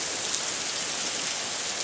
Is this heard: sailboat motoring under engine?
no